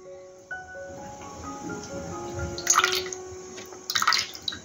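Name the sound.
pouring colostrum milk into a bowl for mixing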